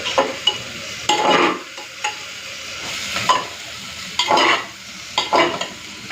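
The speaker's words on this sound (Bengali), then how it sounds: "তো বন্ধুরা, পেঁয়াজটা হালকা ভাজা হয়ে গেছে," Onions and bay leaves fry in a pan with a steady sizzle, broken by several bursts of stirring and scraping, close and fairly loud, with no talking.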